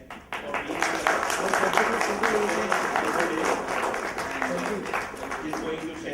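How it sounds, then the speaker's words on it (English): Listeners at a UX/UI design summit in Bangalore applaud warmly. The dense, continuous clapping swells and holds for several seconds, with a voice faintly audible beneath it. "would request a warm applause for Ted"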